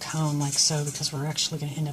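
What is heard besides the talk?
No everyday noise stands out behind the speech.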